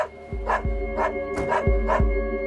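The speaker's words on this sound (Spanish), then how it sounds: "Nuestros compañeros activan el altavoz con los ladridos del perro" Recorded dog barks play from a loudspeaker in a car trunk, about five evenly spaced loud barks with a slightly electronic, boxy tone, close and without talk.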